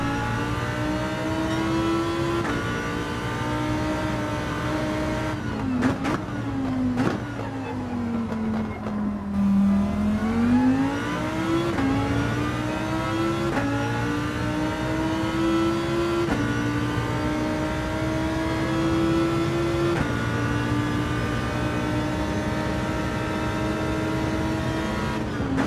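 Race car engine in Gran Turismo 7 played in PSVR2, a loud continuous whine that drops sharply on a downshift mid-corner and then climbs back up through the revs.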